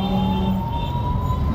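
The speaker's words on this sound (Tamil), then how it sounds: "ஆம்புலன்ஸ் போகுது." An ambulance siren on a road near an auto-rickshaw, a short steady tonal wail held over traffic rumble, moderately loud and not far off, without speech.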